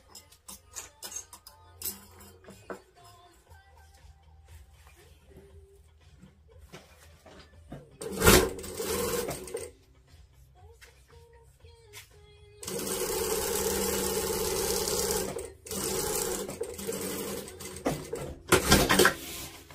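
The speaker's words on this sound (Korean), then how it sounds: "시접 남긴 것만큼 접어서 스티치 한번 줄게요" Sewing machine running in bursts as it stitches down a folded seam allowance on a drawstring eco bag of waterproof tarp fabric, with loud stretches of steady whirring between quieter pauses and faint handling noises.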